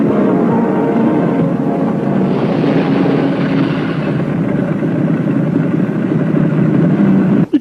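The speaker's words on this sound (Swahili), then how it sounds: "Sio baisikeli, pikipiki mzee." A motorcycle engine drones loudly and close for several seconds, its pitch rising slightly partway through, then ends with a sharp knock at the close.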